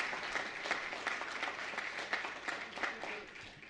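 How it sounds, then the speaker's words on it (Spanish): Audience applause for a Peruvian cajón player at an Argentine guitar festival, a dense steady clapping that fills the whole stretch with a few louder bursts. "Fuerte el aplauso para él."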